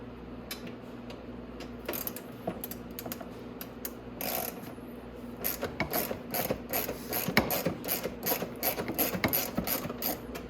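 A ratchet loosens 10 mm bolts on a Venom Grizzly 125cc ATV, giving steady rapid pawl clicking close by that runs throughout and grows busier and louder in the second half, with no talk.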